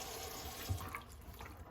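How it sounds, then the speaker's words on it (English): Water running from a kitchen faucet under a sink fitted with a water filtration system, a steady broadband rush heard close up and alone, with no voices. "you want to open up the faucet to make sure everything's out"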